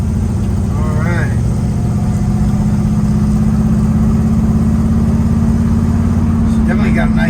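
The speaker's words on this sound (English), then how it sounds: "She definitely got a nice sound with the side pipes." A 1966 Ford Mustang with side pipes idles nearby with a steady, deep, loud rumble, and a short rising squeal or whine is heard near the start.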